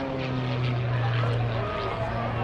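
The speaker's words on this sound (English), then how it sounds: "Rob Holland will have a diving start in this race, and here he comes from the left now" A propeller aerobatic airplane at an airshow drones overhead, diving into a race start, with a steady buzzing engine tone that shifts slightly in pitch, while a voice talks faintly underneath.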